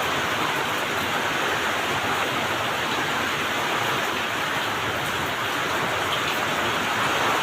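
Heavy rain pours steadily in Sevur, Avinashi, Tiruppur, a dense continuous hiss with no pauses and no voices.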